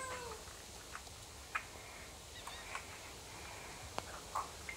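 Cat in the video game Star Stable meowing faintly, a few brief cries scattered over a quiet background hiss, with no talking.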